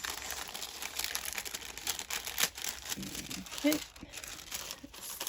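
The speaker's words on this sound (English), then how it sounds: "this month we have some gold tissue paper instead of the usual pink tissue paper. Let's undo this." Gold tissue paper is unwrapped from a Glossybox May 2020 beauty box. Close, soft rustling and crinkling comes in bursts, with a brief spoken word alongside.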